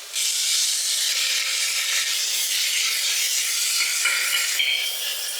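Onions, ginger, garlic and green chillies fry hard in hot oil for kappa biriyani. A loud, continuous hissing sizzle runs from start to finish, with slight swells near the end. No one speaks.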